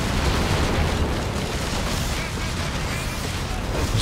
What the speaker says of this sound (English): Bazooka's actually doing a lot of damage to the building.